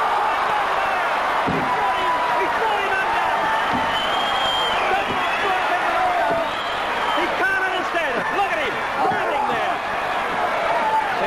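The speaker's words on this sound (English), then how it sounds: "Slams him over again." Wrestler slammed onto the ring mat during a pro wrestling match at Festival Hall: a dull thud lands under constant crowd noise and cheering, with an announcer talking over it.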